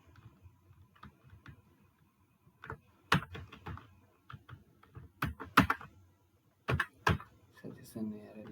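Keys clack on a computer keyboard while JavaScript code is typed, in scattered bursts and single taps, some close and sharp, with someone talking in Hindi at times.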